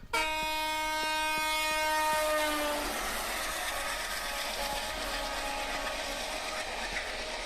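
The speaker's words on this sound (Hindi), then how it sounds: "Train start." A moving train sound effect in a comedy skit: a loud horn blast for the first few seconds, then steady rolling rumble and clickety-clack of a train in motion, with no talk.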